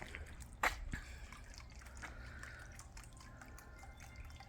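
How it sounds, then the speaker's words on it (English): Water trickling and dripping in the water features of a front courtyard, faint and steady, with one sharp splash or clink near the start. "Couple of water features."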